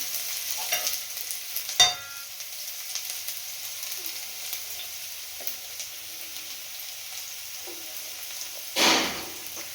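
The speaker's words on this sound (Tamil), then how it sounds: "ஆனியனை போட்டுக்கலாம். நல்லா கொஞ்சம் ஃப்ரை ஆகட்டும், ப்ரௌனிஷாக." Steady sizzling of onions frying in a pan, with occasional scraping stirs and a louder spoon clatter near the end; no talking.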